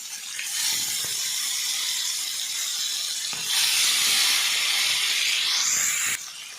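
Green-marinated chicken pieces fry in oil on a tawa over a medium flame with a loud, steady hiss. The sizzle surges sharply when more pieces go in and stays bright and continuous, with no voices.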